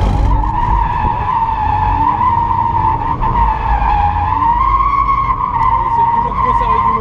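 A Toyota GT86 drifts across a wet track, its tires skidding in a loud, sustained squeal over a steady engine drone that runs unbroken from start to finish.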